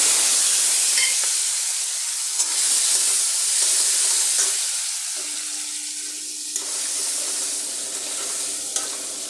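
Chili and tomato dropped into a pan with salt and turmeric hiss loudly in hot oil, a broad continuous sizzle that swells and eases over several seconds with a few faint clicks and no speech.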